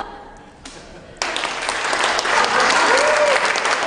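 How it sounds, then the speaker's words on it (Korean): Audience applause after a performance of Korean traditional singing, breaking out suddenly and swelling into sustained, dense clapping from a large crowd, loud and close, with no voices over it. "인상적인 공연에 관객들의 박수 갈채는 끊이지 않고."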